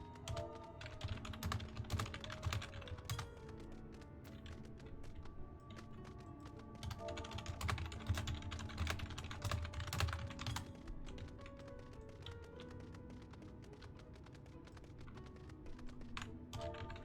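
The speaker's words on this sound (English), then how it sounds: "If you hear me clicky-clacky keyboarding," Rapid, irregular clicks from a clicky computer keyboard being typed on continuously and close by, layered over steady background music.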